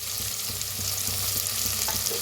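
Crushed ginger, garlic and green chilli sizzle steadily in a hot pan for a jackfruit curry, a continuous close frying hiss with faint stirring taps, no voices.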